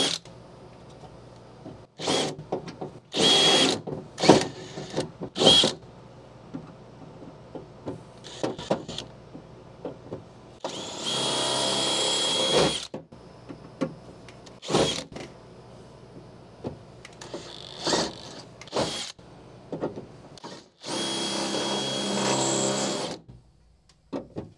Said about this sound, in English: I don't want to drill out any metal in the actual door.